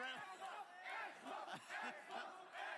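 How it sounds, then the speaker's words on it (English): An audience at a gaming event cheers and shouts in repeated swelling bursts, a dense crowd roar rising and falling several times, fairly distant and moderately quiet. "As you celebrate and cheer."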